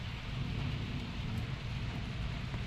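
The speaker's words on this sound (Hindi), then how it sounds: "कमेंट में बताना किस किस के यहाँ पे बारिश हो रही है" Heavy rain pours down steadily and densely throughout, a loud, even roar close by with no pauses.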